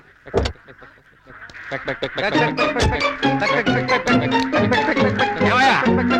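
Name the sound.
ducks quacking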